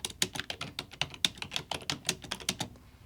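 Rapid, steady clicking of keys on a computer keyboard, close and fairly quiet, with no talking.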